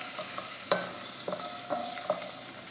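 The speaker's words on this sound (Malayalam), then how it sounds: "ഇഞ്ചി വെളുത്തുള്ളി ചേർത്ത് ഒന്ന് വഴറ്റിയെടുക്കാം." Ginger and garlic sautéing in a pan for chicken curry, a soft steady sizzle broken by a few distinct scraping stirs of a spoon against the pan, close-up and with no voices.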